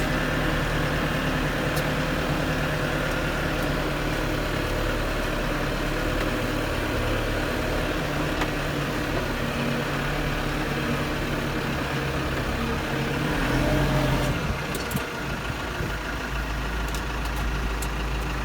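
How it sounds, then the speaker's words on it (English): A Case Farmall 55C tractor engine runs steadily while driving in third range, first gear, a smooth, fairly quiet low rumble that holds constant throughout with a brief swell near the end, alone without talk. "It's a very quiet, smooth tractor to drive."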